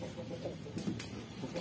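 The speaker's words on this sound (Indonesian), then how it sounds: "mempercepat suara daripada ayam pelung kita agar sering berbunyi" A Pelung chicken calls with faint, quiet clucking sounds, several short calls against a soft background.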